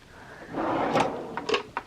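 Drawers of a Kmart make-up vanity sliding open or shut, a smooth rolling slide followed by a couple of light knocks as they settle, close and alone.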